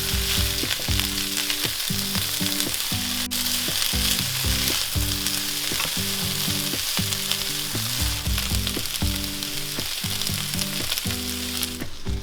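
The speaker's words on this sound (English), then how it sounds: "we're gonna heat up the grill and put the skirt steak on the grill." Skirt steak sizzles steadily and loudly on a charcoal grill, a dense continuous crackle of frying fat with no voices over it.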